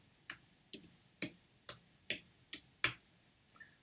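Several crisp, separate clicks of a household paper hole punch sound effect, about seven evenly spaced snaps close to the microphone, then two fainter ticks at the end.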